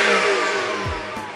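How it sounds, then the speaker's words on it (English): Stock OEM exhaust of a 2011 BMW E92 rumbling briefly and nearby, a short engine note that falls away as the revs drop. "before you heard the OEM, the stock exhaust sound"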